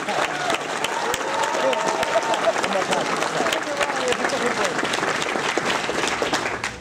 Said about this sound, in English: So give yourself a round of applause for making this dream come true.